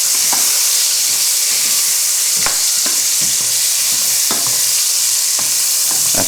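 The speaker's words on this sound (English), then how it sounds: "what I'm going to do is going to add in the chopped up leeks" Chopped leeks sizzle loudly in a hot pan with a constant hissing fry, punctuated by repeated scraping knocks as they are stirred and moved around, with no voices.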